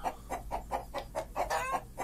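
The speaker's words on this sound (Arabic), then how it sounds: "ايوه هو الديك بيبدا كوكوكو." A rooster gives a rapid run of about eight rhythmic clucking calls in two seconds, close and fairly loud against a low steady hum.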